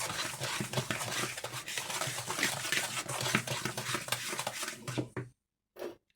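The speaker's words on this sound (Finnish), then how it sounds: "Ja sekoitetaan aina välissä." Wooden fork stirring Runeberg muffin batter in a bowl after eggs are added, a steady close scraping and knocking churn for about five seconds before stopping, followed by one brief clatter.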